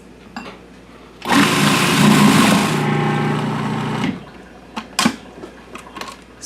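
An electric mixer whirs loudly through cream cheese and sugar for about three seconds, then stops, leaving a few close clunks and scraping sounds.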